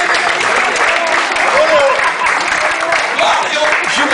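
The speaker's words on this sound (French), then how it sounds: "Oui, on peut l'applaudir." A crowd at a seniors' evening event claps steadily throughout, a dense continuous patter with a few faint voices mixed into the room.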